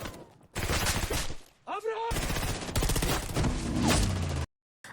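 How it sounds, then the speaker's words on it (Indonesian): Gunfire from an action film shootout at a gangster's house in Scotland, dense bursts of shots mixed with loud music and effects and brief voices, nearly continuous and loud before cutting to silence at the end. "Mereka langsung menembaki anak buah Abrar."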